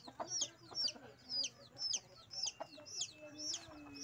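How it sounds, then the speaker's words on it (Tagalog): Chickens cluck repeatedly in a steady series of short, sharp calls, fairly close, over a low rural background hum, in a Philippine countryside yard. "Yan, daming manok."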